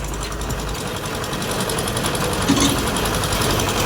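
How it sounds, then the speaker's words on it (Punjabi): A tractor pushing a stuck cement trolley toward lower ground runs with a continuous loud, vibrating diesel rumble and knocking, holding steady for the whole stretch with a brief extra clatter partway through. "ਟਰੈਕਟਰ ਪਰਾਂ ਨੂੰ ਗਿਆ ਨੀਵੇਂ ਥਾਂ ਨੂੰ"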